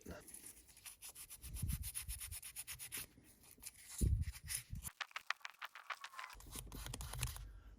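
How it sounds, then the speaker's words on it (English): A carburetor float from a Honda XL500S or XL250 motorcycle is being cleaned, with quick rhythmic rubbing and scrubbing strokes, close and fairly quiet, pausing briefly midway. "I'm gonna clean this float a little bit."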